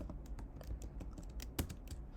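Typing code on a computer keyboard, a steady run of light, quick key clicks at close range with one louder keystroke near the end, no voice.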